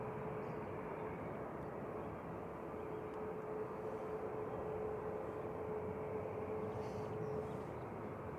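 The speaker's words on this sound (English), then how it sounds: "There's Ryanair departing in the background." A Ryanair airliner departs Manchester Airport in the background, a steady broad roar of jet engines sustained throughout with a faint constant whine, distant and even in level.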